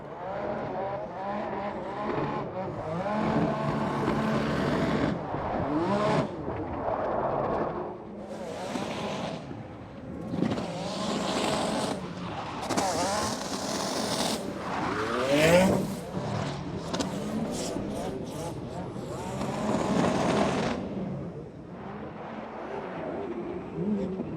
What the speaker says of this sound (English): let's listen to Fiorella, this Ferrari here of Federico Scerifo